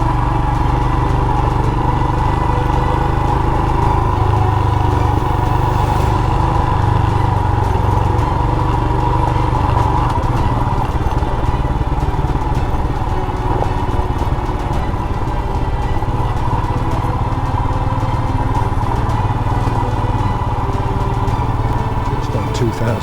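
A Royal Enfield Himalayan motorcycle engine pulls steadily in second gear at about 2000 RPM on a dirt lane, a loud, close, continuous thrum and clatter that holds throughout, with a voice heard over it.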